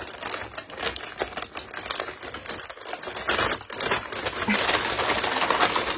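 Paper wrapping on a small advent calendar gift is torn and rustled open, a dense crinkly crackling that runs close and continuous, growing busier toward the end.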